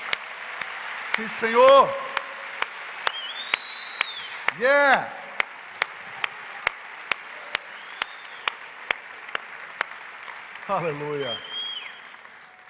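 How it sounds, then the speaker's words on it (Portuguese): Church congregation clapping during a worship service, with sharp single claps in a steady, evenly spaced beat while voices call out and speak over it at several points. "Vamos abençoar Jesus com um aplauso, Ele é digno."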